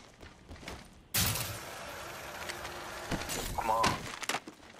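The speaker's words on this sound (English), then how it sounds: "Care package coming in" A care package drops and lands in Apex Legends with a sudden loud thunk, followed by a sustained roaring rush and a few clanks, close and dominant over game ambience.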